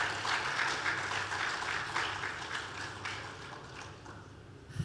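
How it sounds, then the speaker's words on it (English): Conference audience at a day-two session claps together in a dense, steady round of applause that thins and fades toward the end. "Please give them a round of applause."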